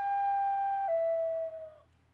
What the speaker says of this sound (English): I had a flute with me.